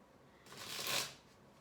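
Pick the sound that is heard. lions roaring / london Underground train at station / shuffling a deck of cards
shuffling a deck of cards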